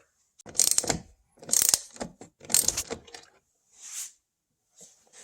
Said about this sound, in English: That's going to expose another 30mm Torx bit that we've got to remove right here.